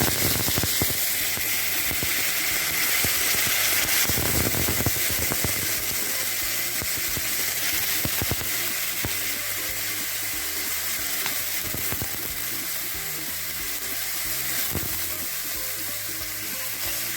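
Mung dal frying in hot oil with whole red chillies and five-spice seeds for a vegetable khichuri, a steady dense sizzle with occasional spoon stirs and scrapes, close and continuous throughout.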